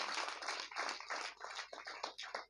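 A church audience claps during a sermon, a steady patter of many hands heard faintly from a distance, with no voices over it.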